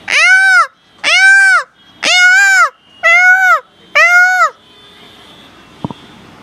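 Five loud, evenly spaced nasal wails from a voice imitate a peacock's call, followed by quiet room noise and a small click.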